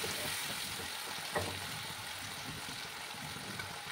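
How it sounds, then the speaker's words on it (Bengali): Tomato paste frying in a pan for a taro root curry, a steady close sizzle that continues unbroken, with one brief clink partway through. "সেই টমেটো পেস্টটা দিয়ে দিলাম। দিয়ে ভালো করে কিন্তু কষিয়ে দিতে হবে"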